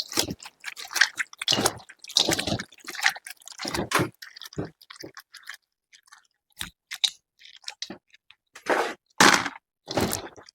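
Seeds are squeezed by hand out of their red pulpy covering, making repeated wet squelches, squishes and crackles in irregular bursts, close and fairly loud, with short quiet gaps between.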